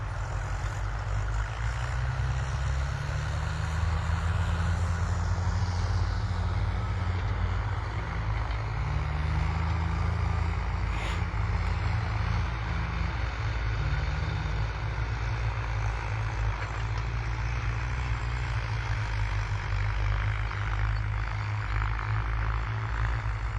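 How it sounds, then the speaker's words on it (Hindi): Tractors drive over standing crops in a field at Babera village, Bansur, with a JCB working nearby, making a continuous heavy engine rumble and drone that stays steady and fairly loud throughout. "ये देखिए किस तरह से दंदनाते हुए ट्रैक्टर खड़ी फसलों के ऊपर इस समय चल रहे हैं"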